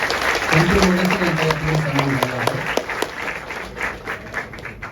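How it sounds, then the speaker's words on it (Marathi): An audience at an award ceremony honouring an artist breaks into sustained applause, a dense wash of clapping with a voice speaking over it before it slowly thins out. "मला वाटतं टाळ्या कमी पडत आहे"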